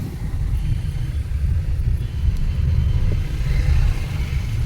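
Car setting off with a low, steady engine rumble and road noise heard from inside, continuous and fairly loud with some wind buffeting.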